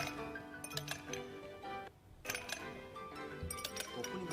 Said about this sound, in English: The Joy-Con can convey to you the feeling of ice cubes colliding in a cup.